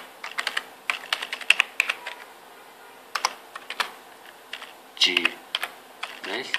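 Quick bursts of keystrokes on a computer keyboard while an email address is entered, irregular clusters of light clicks with short pauses, close and fairly quiet.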